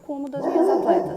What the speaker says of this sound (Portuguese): desculpa pelo cachorro